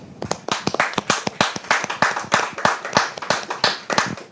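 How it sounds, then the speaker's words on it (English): A studio audience claps for a guest introduced as head of the National Sports Authority, a steady run of sharp individual claps at close range with no talking. "Shall we give him a clap?"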